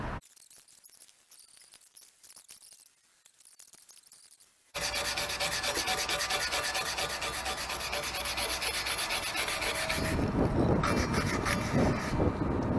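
A wire brush scrubs rust off a barbell in harsh, steady rasping strokes. It starts with quieter scattered scraping, then becomes loud continuous close-up scrubbing that grows coarser toward the end, with no talking.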